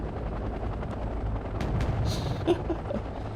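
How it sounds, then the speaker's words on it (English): Helicopters sweep over a forest in the Wargame Red Dragon strategy game, a steady rotor drone with faint distant gunfire and impacts mixed in. "just look at all those helicopters"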